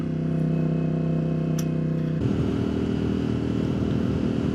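Yamaha R7 sport motorcycle engine running nearby: a steady, loud, throbbing engine drone that shifts abruptly to a rougher, grittier roar about halfway through, continuing to the end without speech.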